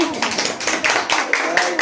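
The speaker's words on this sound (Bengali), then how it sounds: "হাততালি।" A small group claps at a wedding anniversary celebration at an uncle's home, uneven hand claps pattering close by while voices talk over them.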